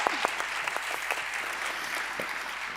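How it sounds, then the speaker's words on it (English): Applause rises from the audience at the ARIA 2023 awards ceremony, a moderately loud, steady patter of many hands with a few sharper individual claps standing out, continuing throughout. "Let's give a warm applause"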